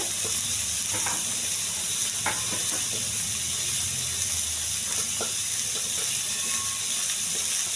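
Tomato, mint and coriander frying in a pan, a steady close sizzle with occasional stirring scrapes and clicks throughout.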